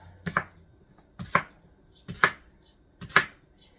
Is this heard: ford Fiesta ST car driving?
no